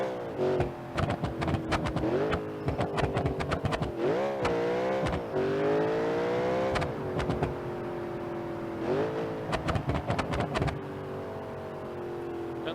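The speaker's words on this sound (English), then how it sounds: "The header's still crackle and pop, so that's good." A V8-swapped 200bx "Rotsun" car in BeamNG.drive, its engine revving up and down repeatedly, with rapid crackles and pops from the exhaust headers between the pulls, close and fairly loud throughout.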